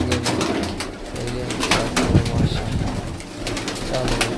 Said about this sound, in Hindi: बाकी टोटल सारे कबूतर चेक करो